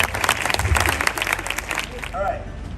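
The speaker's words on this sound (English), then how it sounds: "Let's clap it up, clap" An audience at a 2025 track awards banquet claps steadily for a few seconds, dense and fairly close, while a speaker's voice carries over the applause toward the end.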